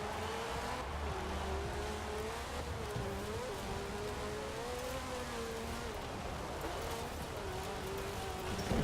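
A Lancia 037 rally car engine in Forza Horizon 4 drones steadily at close range, its pitch rising and falling with gear changes and throttle over a constant rumble, with no voices.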